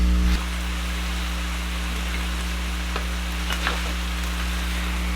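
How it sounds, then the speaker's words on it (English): Collard greens frying over high heat give off a steady, dense sizzle and crackle that runs without a break, close and fairly loud, with a low hum underneath and no talk. "I'm going to turn the heat up even more just to get a nice crispy fry on it"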